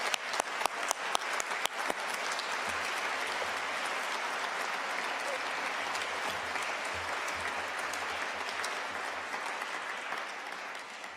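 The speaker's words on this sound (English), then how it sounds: "I think you should deserve a round of applause" An awards ceremony audience claps for an honoree, with crisp separate claps at first that swell into dense, steady applause lasting several seconds.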